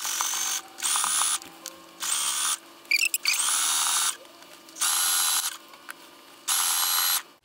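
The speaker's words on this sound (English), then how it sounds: "line the elastic up right with the edge of your fabric, and then you just start sewing." A sewing machine stitches elastic onto swimsuit fabric in several fast mechanical bursts, each about a second long with short pauses between, close and fairly loud in a quiet room.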